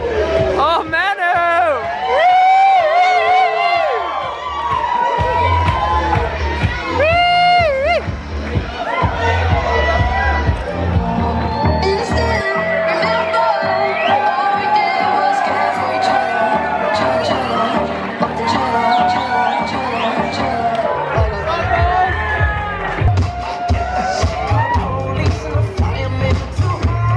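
Crowd cheering and shouting at a fashion show, dense and loud throughout with a constant roar of many voices, excited calls rising over the babble and some music-like tones beneath.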